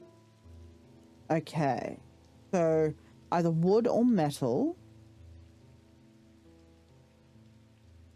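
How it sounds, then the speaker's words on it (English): Rain falls steadily in the video game Strange Antiquities, a constant soft patter that runs beneath a person talking and continues alone after the voice stops. "it's currently raining"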